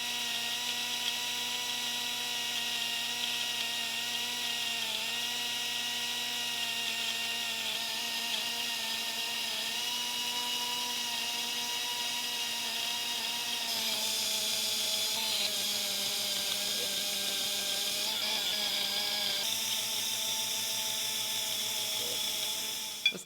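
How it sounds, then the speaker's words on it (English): A die grinder mounted in a lathe whines at a high, steady pitch while cutting a groove into an axe sharpening jig, with small shifts in tone as the chuck is turned by hand, continuous throughout. "run the die grinder, and then I'm gonna manually turn the chuck to get that groove"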